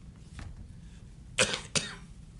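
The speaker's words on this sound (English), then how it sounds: "excuse my cough here." Two quick, harsh coughs from a man suffering a heavy cold in a Utah courtroom at a ski crash trial, near and distinct against a low, quiet room hum.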